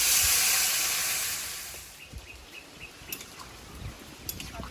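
Water poured into a hot pan of vegetable curry bursts into a loud, close steam hiss that fades after two seconds into quiet bubbling with faint clicks and ticks.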